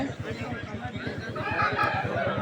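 A rooster crows near the end over a rhythmic low thumping and busy background noise at a poultry market in Vijayawada, with possible hen clucks mixed in.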